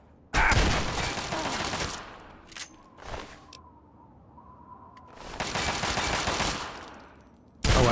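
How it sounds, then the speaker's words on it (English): Gunfire in the video game Fallout 3: two long bursts of loud rapid automatic fire separated by a quieter gap with a couple of lone shots, and a final burst starting at the end. "Quit shooting me."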